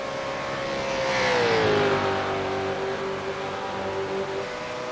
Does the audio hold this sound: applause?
no